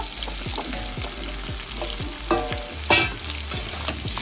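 Cut drumstick stems frying in a pan with a steady sizzle, a utensil scraping and stirring in regular strokes, with a few sharper clinks near the end.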